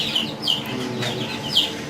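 A young Light Brahma rooster clucks and calls among other chickens in an ornamental poultry coop, a steady nearby barnyard chatter with no speech.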